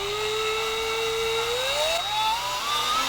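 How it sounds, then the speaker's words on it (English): A drill widens a screw hole for a Gotoh guitar tuner on a Partscaster build, giving a close, continuous high whine that holds steady and then climbs in pitch as it bites. "I'm just gonna drill it out a little more to give it a little bit more space."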